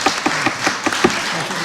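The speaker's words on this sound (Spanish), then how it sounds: "Violeta, un aplauso, por favor." A small audience applauds at an informal talk, a short burst of scattered hand claps that carry through the room with a few stronger individual claps standing out.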